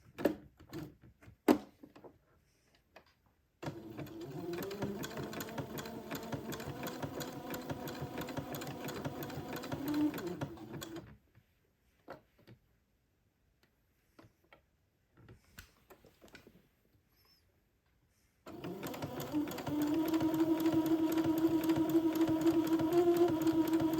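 Sewing machine stitching lace onto a gown, running in two long steady whirring bursts separated by a quiet pause filled with small clicks and handling noises, close and moderately loud.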